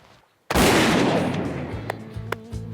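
A shotgun fires once during a goose hunt outdoors, one loud sharp blast that rings out and slowly fades, followed by faint clicks.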